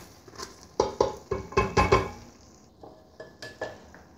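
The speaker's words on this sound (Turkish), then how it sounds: "Mercimekle beraber yine kavuruyorum." Washed lentils sautéed with tomato paste in a pot, a series of clanking, scraping stirs in quick bursts over a faint sizzle, the knocks thinning out toward the end.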